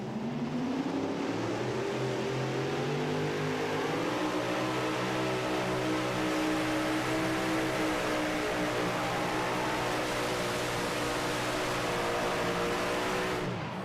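A super modified pulling tractor at a pulling event in Greenville, Ohio, runs at wide open throttle down the track, its engine a sustained loud roar with stacked harmonics that climb early and then hold high and steady.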